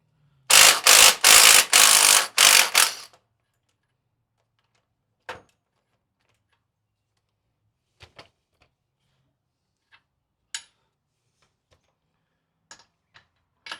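A socket ratchet loosens bolts on the front differential of an OKA 251 truck under rebuild, giving a quick series of loud close clicks at the start, then scattered faint taps and clunks in near silence.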